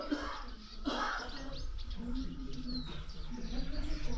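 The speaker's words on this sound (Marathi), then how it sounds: "चिमणी आवाज करते" Sparrows chirp in a calm morning setting near the sea, a few short, scattered tweets and one thin whistle over a low background murmur of ambient noise.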